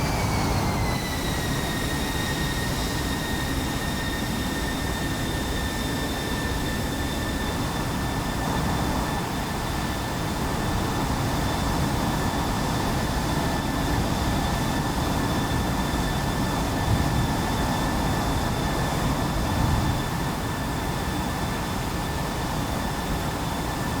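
F/A-18C and F-16 jets taxiing in the DCS flight simulator, a steady roaring jet engine whine with a high turbine tone settling after the first couple of seconds, constant and even throughout.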